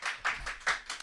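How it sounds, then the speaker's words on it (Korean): A few hand claps greet a guest, the political candidate Lee Jun-seok, arriving on a talk show: five distinct claps in an even rhythm, close and fairly quiet, with no talk over them. "큰 박수로 환영해 주십시오."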